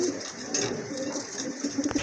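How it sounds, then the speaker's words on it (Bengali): Giribaz pigeons coo softly at close range, a few low repeated throaty coos over a murmuring background, with a short series of coos toward the end. "আরেক জোড়া গিরিবাজ কবুতর আছে এখানে মাশাআল্লাহ, দেখতে পাচ্ছেন।"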